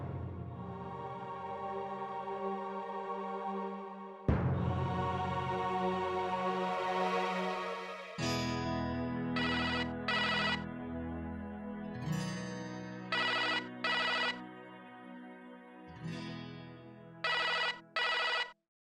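A telephone ringtone plays a bright electronic melody, repeating in bursts with short gaps, clear and alone with no voices.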